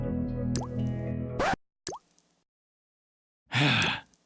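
Water dripping from a leak, with distinct plopping drops, one at the start and another after a pause, close and clear, set against a louder stretch of other sound at the beginning.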